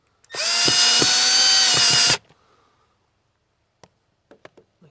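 Close, loud power drill whirring for about two seconds as it backs out an air filter housing screw on a 2010 Opel Vauxhall Astra J 1.7 CDTi diesel, then a few faint clicks and taps afterward.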